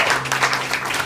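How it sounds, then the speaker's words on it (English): Audience at a live comedy panel show on the Gold Coast clapping and cheering for a performer: a dense, steady burst of applause with a low hum beneath, continuous and fairly loud throughout. "can we get another round of applause for Jay"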